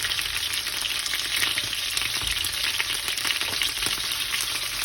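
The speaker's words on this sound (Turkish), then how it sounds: "Lezzetli olsun diye birazcık yağda kızarsın" Steady, dense sizzling of chicken frying in hot oil in a pot, loud and close, with faint stirring movement underneath and no talk.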